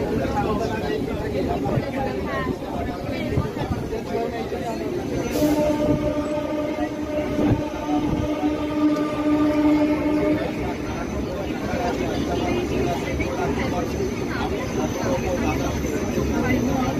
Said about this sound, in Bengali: ট্রেন এখন ঢুকছে নৈহাটি জংশন